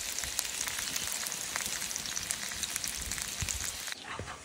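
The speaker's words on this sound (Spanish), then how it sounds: "aquí ya estamos friendo las tortas de pescado." Battered Salvadoran-style fish cakes fry in hot oil with a steady, dense crackling sizzle that runs close and loud throughout, briefly thinning near the end.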